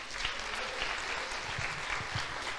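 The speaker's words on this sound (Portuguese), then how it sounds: "aplauda o Senhor" A church congregation applauds during a Portuguese-language sermon, a brief wash of steady, fairly soft clapping from many hands, with no one speaking over it.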